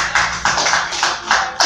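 Congregation applauding during a church prayer service, a brisk wash of many hands clapping in rough unison with regular swelling bursts, fairly close and loud, no talking over it.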